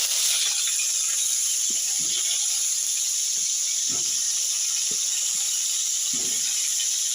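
Cauliflower pieces sizzling in hot mustard oil, a steady bright hiss of frying throughout with a few soft low knocks from stirring or pieces settling in the pan, no voices.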